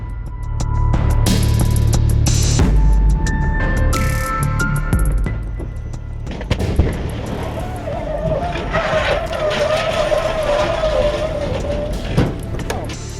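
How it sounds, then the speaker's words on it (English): On the northbound M6 in Cheshire, a rear-facing dashcam catches a lorry slamming into another truck: loud engine and road roar, a skid-like scraping surge, then a rougher, noisier stretch as the vehicles come to a stop. "a rear-facing dashcam shows a lorry crashing into another truck before coming to a complete stop"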